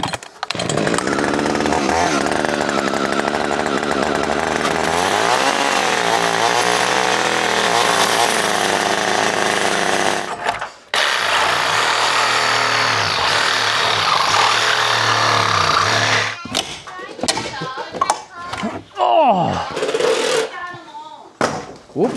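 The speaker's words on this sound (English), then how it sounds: "Whoops, there goes the chainsaw." A chainsaw roars loud and close while cutting wood for framing a homestead patio addition. It runs steadily for about ten seconds, dips briefly, then runs again before breaking into shorter revs and bursts.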